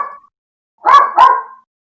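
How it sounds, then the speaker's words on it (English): A dog barks twice in quick succession, loud and close, after a brief faint sound, with no talking over it. "Sorry about my dog."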